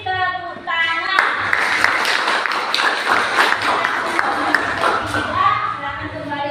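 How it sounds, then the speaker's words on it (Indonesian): Applause from a class audience after a group presentation in a school lesson, a dense burst of many hands clapping that starts sharply and carries on steadily for several seconds, loud and close, with a voice speaking briefly before it begins. "Kita beri tepuk tangan."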